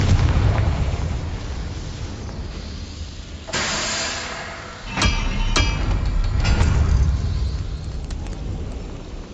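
Incendio fire spell in the Hogwarts Legacy game: a sudden loud fiery burst erupts midway, followed by sharp cracking pops and a lingering rumble over a noisy game background, with no talk.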